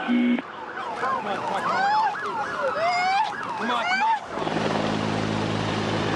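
Several wailing sirens rise and fall together in overlapping sweeps, fairly loud, then give way abruptly to a steady broadband roar.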